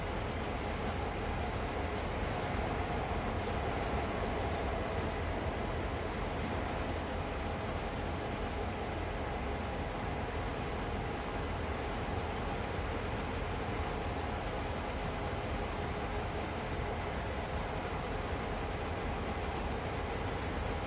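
A steady, broadband rumble from a train passing a rail yard in a train simulator game, with a continuous roar and a faint hum and no clear breaks; it stays even and moderately loud throughout, without talk.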